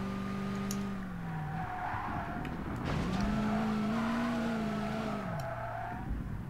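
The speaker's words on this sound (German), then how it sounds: "ich beschleunige ein bisschen und er schlittert da durch, als wenn ich hier drift" A race car in the DTM Race Driver 2 video game revs and slides, the engine note rising and falling with squealing tires through a drift, loud and continuous with no talking.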